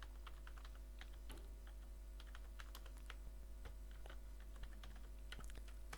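Keys clatter steadily on a computer keyboard across six seconds with no voice, a continuous run of quiet taps over a low background hum, entering skills into an assignment form.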